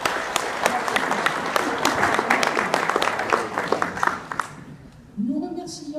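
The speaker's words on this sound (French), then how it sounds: "Je vous demande de l'applaudir." A meeting audience applauds with dense, steady clapping for several seconds before it fades out and a voice begins speaking.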